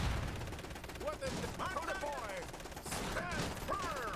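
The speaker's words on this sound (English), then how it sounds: "Our artillery's doing an awesome job there." Artillery and gunfire rattle in a chaotic battle in the mech strategy game Iron Harvest, repeated bursts under swooping whistles of incoming shells, moderately distant and layered.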